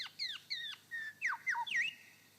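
A lyrebird imitates a grey thrush's song in the forest: a clear series of ringing whistled notes, several sweeping downward, delivered in quick phrases close by with no other sound.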